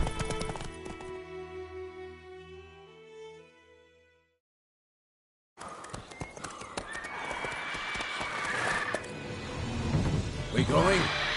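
Hooves of the horse galloping in The Witcher 3 video game beat in a quick clip-clop rhythm with a neigh, set among game music and voices; a short silent gap falls midway before the galloping returns.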